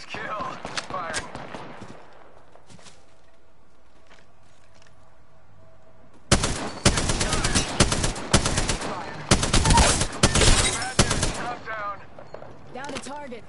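Rapid gunfire bursts from the video game Apex Legends, loud and dense over several seconds, following a quieter stretch of faint game ambience and mechanical clicks.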